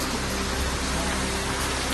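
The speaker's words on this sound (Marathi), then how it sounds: "नाशिकच्या बागलाण तालुक्यातील मुल्हेरसह परिसरात मुसळधार पाऊस." Heavy monsoon rain pouring down around Mulher in Baglan taluka, Nashik, a dense, steady roar of falling water with no talk.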